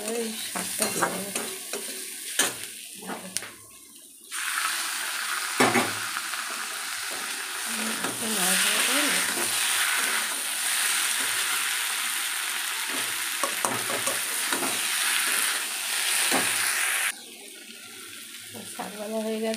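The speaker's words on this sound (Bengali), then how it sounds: "ভাজা ভাজা হয়ে গেলে এবারে এই শাকটা দিয়ে দেবো।" Leafy greens frying in oil: a dense, loud hiss of sizzling when the greens go in, with repeated spatula scrapes and knocks against the pan, close and continuous before easing off.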